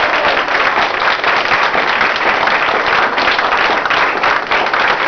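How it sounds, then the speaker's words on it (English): A large audience gives a sustained, loud round of applause at a Head Start talk and performance in Neon, Kentucky, with dense steady clapping carrying on evenly, unbroken by speech. "let's give them a great big round of applause."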